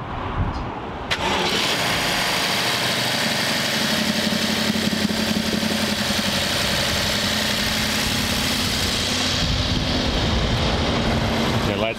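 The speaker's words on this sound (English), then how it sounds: "Let's go ahead and start this thing and see what it sounds like." A used 2011 car engine cranks and catches after about a second, then settles into a steady, loud idle with an even hum and slight vibration, close by and with no talking.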